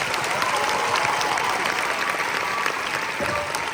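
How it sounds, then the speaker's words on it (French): A crowd at a French graduation ceremony breaks into sustained, loud applause, a steady dense roar of many hands clapping at once with no pause throughout. "faites un tonnerre d'applaudissements"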